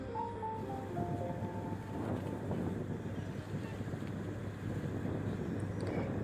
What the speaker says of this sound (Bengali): এখান থেকে আমরা একটা ট্রলার ভাড়া করলাম ভাড়া করে আমরা ঘুরতে শুরু করলাম